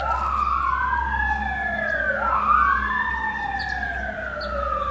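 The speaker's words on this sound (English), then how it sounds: "You guys hear those sirens? I hate when I hear sirens." Emergency vehicle sirens wail outside as they pass, several overlapping rising and falling tones sweeping continuously over a steady low traffic rumble, moderately loud and without speech.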